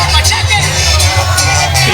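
A wrestling crowd at an indie show cheers Mexi-Machos wrestler Tortuga, a steady roar of voices with whoops and rhythmic surges under a commentator's talk.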